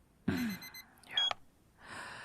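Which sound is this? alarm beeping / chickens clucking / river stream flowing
alarm beeping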